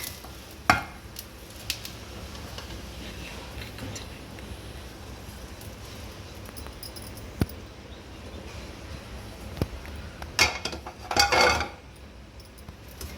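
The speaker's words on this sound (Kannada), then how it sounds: "ಇದಕ್ಕೆ ಹಾಕಿ ಒಗ್ಗರಣೆನ ಚೆನ್ನಾಗಿ ಇದಕ್ಕೆ ಕಲಿಸ್ಕೊಂಡು ಬಿಡಬೇಕು" Hot mustard-seed tempering is stirred into dry chutney powder in a bowl, giving faint scraping and occasional sharp clinks of a spoon against the dish, ending with a short cluster of clattering knocks.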